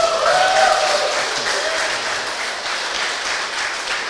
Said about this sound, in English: if everyone likes this conference so far, let's give Avery a round of applause